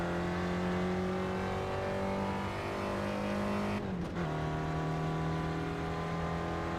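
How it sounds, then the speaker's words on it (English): Dune buggy engines drone steadily at about 100 mph in the iRacing game on the Long Beach street circuit, a loud sustained whine with a brief dip and shift near the end as the pitch settles again. "Racing these Dune buggies at 100 miles an hour"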